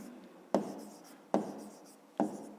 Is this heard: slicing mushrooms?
no